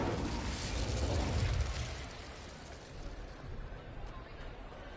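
The Incendio fire spell in Hogwarts Legacy bursts with a loud, broad whoosh near the start, then fades into a softer lingering rumble and crackle.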